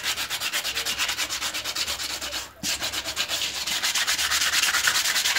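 Sun-damaged plastic being sanded by hand with fine sandpaper, rapid rhythmic back-and-forth rasping strokes, close and steady with one brief pause midway.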